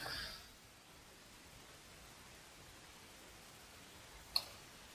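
A single faint computer mouse click, sharp and isolated against a quiet background hiss near the end.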